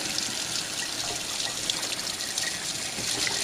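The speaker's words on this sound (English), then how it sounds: "I'm going to ditch that guy in the sink, and I am going to wash my hands" Steady running water from a kitchen sink tap as hands are washed, a continuous hiss-like splash at moderate level with no talking.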